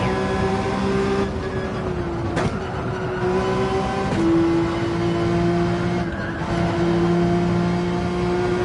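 A race car engine in Gran Turismo 7 holds full throttle as a loud, steady whine, its pitch rising and falling with each gear change, and no one speaks over it.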